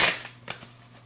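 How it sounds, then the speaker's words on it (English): Tarot cards are shuffled in a quick riffle, a short burst of papery flutter followed by a couple of soft taps, close and alone. "One more shuffle."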